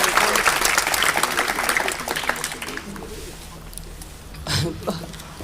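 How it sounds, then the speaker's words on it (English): Audience applause for a deputy speaker at a Commonwealth Day 2024 event, a dense burst of clapping that thins and fades over a few seconds, with a brief swell near the end. "Can we give another hand of applause to the Deputy Speaker"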